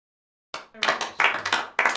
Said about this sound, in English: I also like how when you lose, you get this crappy golf clap